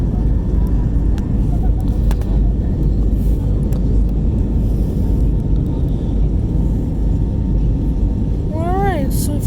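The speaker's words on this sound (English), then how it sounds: "Alright, so we've taken off." Frontier Airlines Airbus A320neo cabin just after takeoff, filled with a steady, loud low engine roar that holds unbroken throughout, with a brief rising chirp-like tone near the end.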